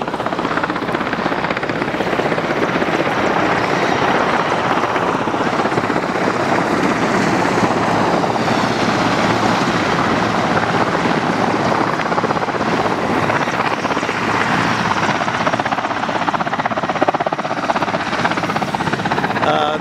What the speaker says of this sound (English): Unbelievable number of choppers.